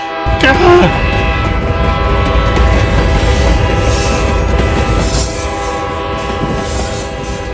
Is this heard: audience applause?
no